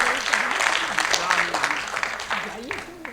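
An audience in a hall at a book launch and Dhamma assembly claps while someone speaks over a microphone, with the applause rising and falling underneath his voice.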